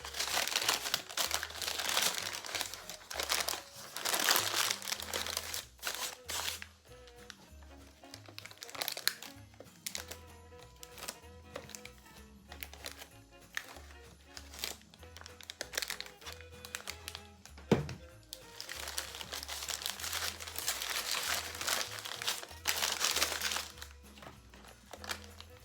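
Wax paper being handled and crinkled over a candle in a craft project, irregular bursts of crisp rustling and crackling with soft taps, fairly close and continuing through a quieter stretch of handling.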